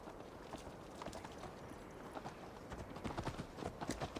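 Horse hooves galloping in Assassin's Creed Valhalla, a quiet steady run of clip-clop beats under soft ambient background.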